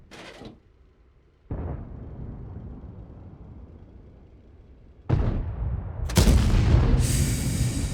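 World of Tanks tank cannon shots, a booming blast at the start followed by a rumbling tail, then two more heavy booms later that leave a loud sustained rumble and hiss.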